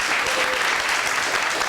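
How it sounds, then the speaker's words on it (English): Evening forum audience clapping their hands in a dense, lively burst of applause, with a voice faintly audible underneath. "Now clap your hands and let us have some liveliness in here."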